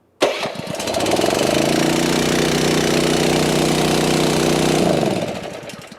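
A Satellite Industries MD 400 pump engine on a slide-in unit cranks and catches, then settles into a loud, steady running drone before winding down at the end, with no talking.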